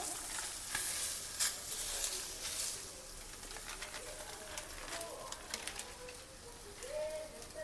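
Masala akki rotti, a rice-flour flatbread, sizzles on a hot griddle with a steady, soft frying hiss and occasional faint pops and crackles.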